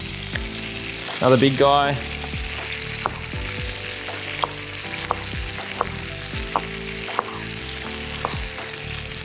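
Cumin seeds sizzle and crackle steadily in hot oil for a spicy lamb and chickpea mince, a continuous frying hiss with sharp pops throughout and a brief stirring scrape; a voice speaks briefly.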